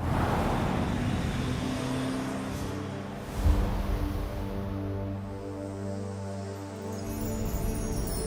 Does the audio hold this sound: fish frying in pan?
no